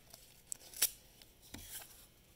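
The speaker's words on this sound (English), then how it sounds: "And then if I want to use notches, I can cut little triangles." Scissors snip small triangle notches into cardboard, with a few quiet, close cuts and one sharper snip standing out, and no talking.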